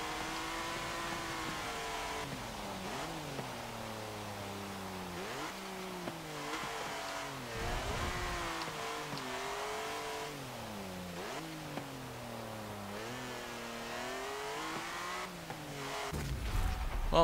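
A 1939 BMW 328 racing in Forza Motorsport 7, its engine revving up and down continuously through gear changes and corners, loud and close, with brief tire squeal during drifts.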